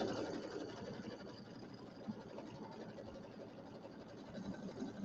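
Quiet, continuous machine whirring under room noise as a sewing machine quilts a small penguin mug rug, steady throughout with no clear pauses.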